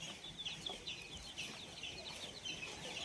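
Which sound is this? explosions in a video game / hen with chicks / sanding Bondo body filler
hen with chicks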